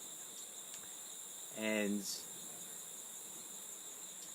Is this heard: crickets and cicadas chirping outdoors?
yes